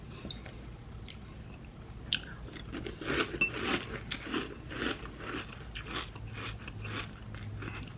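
Crunchy Honey O's cereal is chewed close to the mic, with a run of quick, crisp crunches and bites that start sparse and then turn steady and rhythmic.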